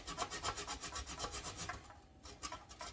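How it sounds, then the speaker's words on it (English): Pure chocolate grated by hand in a kitchen for Jamaican hot chocolate tea, a steady rhythmic rasping stroke repeated about twice a second, close and alone. "So I'm just gonna grate this and get it inside the pot right now."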